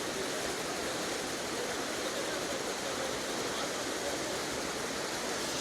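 Dudhdhara waterfall at Amarkantak pours in a steady, even rush of broadband water noise, unbroken and moderately distant, with no voices over it.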